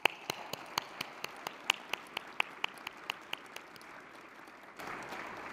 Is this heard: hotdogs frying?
no